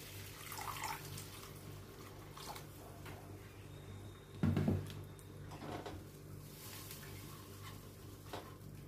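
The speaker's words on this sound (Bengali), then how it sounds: "এবার দেখো, আমি এর সাথে জল অ্যাড করে দিচ্ছি।" Water poured into a cooking pan, a faint trickle and splash under a low kitchen hum, with one brief louder gush in the middle.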